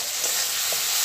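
Chopped tomato hits a spice paste sautéing in a pan, giving a loud, steady sizzle of frying with faint stirring touches, close and continuous.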